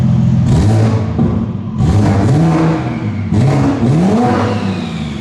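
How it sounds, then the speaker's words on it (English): A heavily modified BMW G87 M2 with downpipe exhaust revs hard three times up close, each loud rising bark followed by a whooshing turbo spool and a falling settle to idle. "Sounds mental, and you can hear the turbo spool as well."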